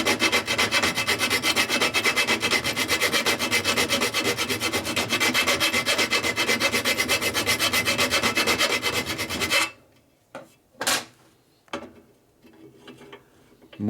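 A hand file works the edge of a 1942 Harley WLA motorcycle frame in loud, close, fast back-and-forth rasping strokes for most of the stretch, then stops, leaving a few brief scrapes and knocks.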